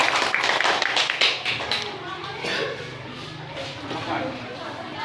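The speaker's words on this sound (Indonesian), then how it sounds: "langsung beri tepuk tangan ya" Children in a classroom give a quick burst of clapping at the start that soon thins out, followed by a teacher talking over faint room murmur.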